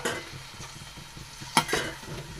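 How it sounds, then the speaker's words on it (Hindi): A kilogram of chicken pieces fries in a pan for palak chicken, a constant hiss under soft stirring, with one sharp clatter of the utensil against the pan midway. "अब इसको मैं थोड़ी देर भून लूँगी।"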